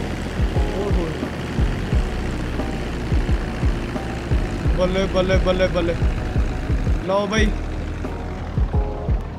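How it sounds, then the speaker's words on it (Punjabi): A propeller airplane engine in the game GTA 5 drones steadily throughout, with a throbbing hum beneath excited nearby talk and brief game sound effects. "ਇੱਥੇ ਹੀ ਆ ਡਰਾਈਵਰ ਜੱਟ ਆਪਣਾ ਆਹ ਜਹਾਜ਼ ਲੈ ਕੇ ਆਇਆ"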